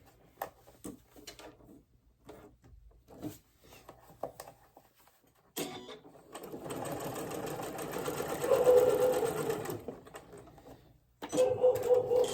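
Sewing machine stitching a short sleeve seam on a shirt: quiet handling and fabric rustling first, then bursts of motor whir, with a long steady run and a final short burst near the end.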